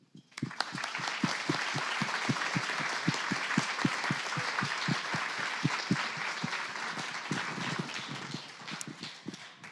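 A seated audience applauds to welcome author Nita Prose onto the stage, steady, dense clapping that starts sharply and carries on for about ten seconds before easing slightly at the end.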